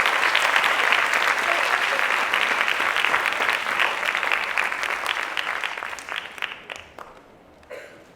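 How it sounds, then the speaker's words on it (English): Sustained applause from an audience at a Year 6 school graduation ceremony, a dense steady clatter of many hands that thins out and fades toward the end. "Have a round of applause for the silver certificate,"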